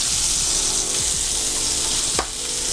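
Halibut fillet sizzling loudly in a hot pan, a continuous close hiss with faint scraping as it slides around, no talking.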